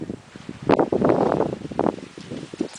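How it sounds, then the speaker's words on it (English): Gusts of wind blow through an outdoor garden in Morocco, buffeting the microphone with rough, uneven rumbling and rustle, loud and close, with no voices. "It's a little windy."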